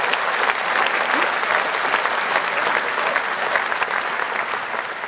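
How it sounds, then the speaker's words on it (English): An audience at a Reform UK political event claps continuously, a dense, loud wash of applause that holds steady for several seconds. "Got a round of applause."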